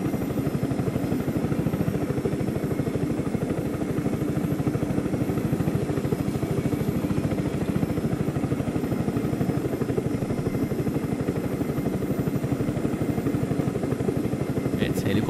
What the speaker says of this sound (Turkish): Evet, helikopterimiz